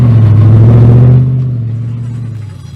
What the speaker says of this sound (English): The cars are revving up.